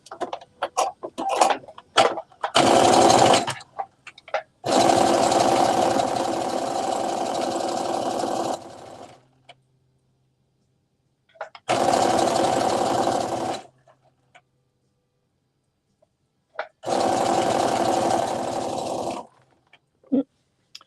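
A sewing machine stitches the seam of a sweatsuit top in several long bursts of fast, close mechanical whirring, separated by short clicks and quiet pauses.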